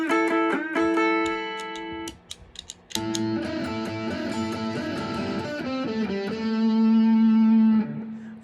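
A PRS 10th Anniversary S2 Custom 24 electric guitar on its neck pickup plays a loud, fat, bluesy rock line of picked notes and ringing chords, ending on a sustained held note, with no voices.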